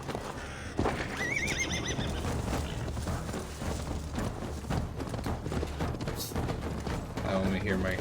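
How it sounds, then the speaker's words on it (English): A horse in the video game Assassin's Creed Valhalla neighs and whinnies over clip-clop hoofbeats and game noise, with people talking throughout. "I only hear my horse going"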